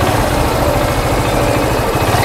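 A motorcycle engine idles steadily close by, a continuous low rumble with a rough vibrating texture and no revving, heard alone without talk.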